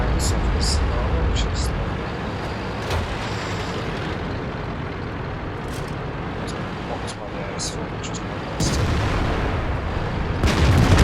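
In the World of Tanks video game, the IS-7 tank's gun fires in deep booming blasts amid a rumbling engine, with radio-style voices talking over the action.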